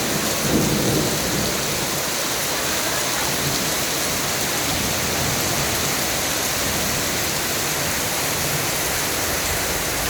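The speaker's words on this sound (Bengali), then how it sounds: "বৃষ্টি কী পরিমাণ বৃষ্টি হচ্ছে আপনারা আমাদের উঠানটা দেখলে বুঝতে পারবেন" Heavy downpour over a village courtyard in Rajibpur, Kurigram, a dense roaring wash of rain on surfaces that stays loud and unbroken, with low rumbling mixed in, no voices.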